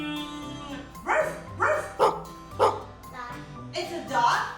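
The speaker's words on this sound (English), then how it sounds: "It's a dog." A cartoon dog in a children's learning animation about pets and their sounds barks in a series of short, bright woofs, spaced roughly every half second over light music.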